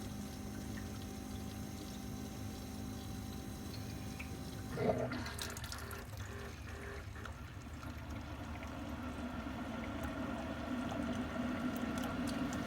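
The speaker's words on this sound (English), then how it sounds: "moment of truth on the first rinse cycle" Keurig coffee maker running a rinse cycle after descaling: a steady pump hum, then a short gurgling burst as water begins streaming into the coffee cup, followed by a continuous trickling pour that grows slightly fuller, heard close up without talk.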